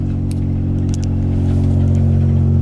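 A Suzuki Cappuccino kei car drives along, its small engine droning with a loud, steady low hum from inside the cabin, joined by a few faint clicks and taps.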